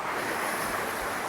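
Steady, broad rushing roar of water at the Maharaja waterfall near Pushkar, a dense continuous hiss close to the microphone with no breaks or other sounds.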